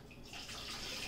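A floor mop being wrung out, with water splashing and streaming into a bucket in a short, faint but steady pour.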